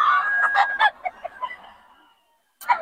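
Golden Boy line gamecock roosters crow at a Bocaue market, one long crow fading into broken calls, then a second bird breaking in sharply after a short silence.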